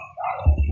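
A single sharp dog bark, close and loud, preceded by a brief whine.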